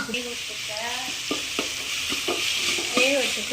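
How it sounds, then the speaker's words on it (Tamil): Mutton biryani masala frying in a pan and being stirred by hand, a steady close sizzle broken by several sharp scraping strokes of the spoon against the pan. "ரெண்டு கிளறு கிளறி விட்டுட்டு எனக்கு வேணும்"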